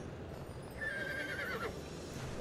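A horse in the video game Barbie Horse Adventures: Wild Horse Rescue lets out a single whinny, a rising then wavering neigh under a steady game soundtrack, with no talking.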